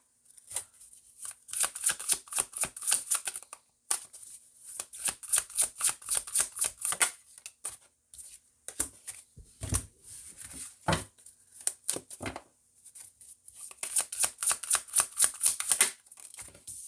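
A tarot deck shuffled by hand for an astrology reading, repeated riffling bursts of crisp card flutter separated by short pauses and a few taps, close and clear with no talking.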